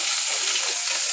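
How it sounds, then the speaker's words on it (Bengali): Bhetki fish frying crisp in hot oil makes a brief, loud, even sizzle that stays dense and unbroken from start to finish. "কড়কড়ে করে ভাজা হয়ে গেছে মাছ।"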